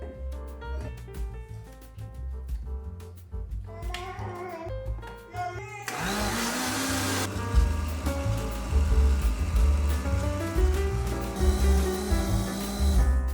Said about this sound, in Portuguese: Batendo as bananas e os ovos até ficar tudo homogêneo.